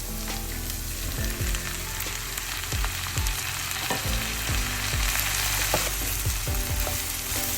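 Tomato and capsicum (green chillies) sautéing in a hot pan for a carrot milk curry, a steady close sizzle and crackle of frying with occasional stirring scrapes, continuous and fairly loud with no talk.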